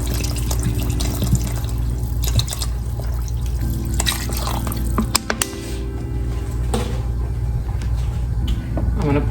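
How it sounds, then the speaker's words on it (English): Water pours steadily into a cooking pot of turkey necks being simmered for Southern gumbo greens, a continuous splashing and trickling fill heard up close under kitchen hum, with a few brief clinks partway through. "I'm gonna pour some more water in there."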